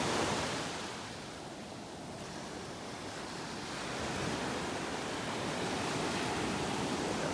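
Ocean surf breaks and washes steadily along a beach in North Naples, Florida, a continuous broadband roar with a slight swell in loudness near the end and light wind on the microphone.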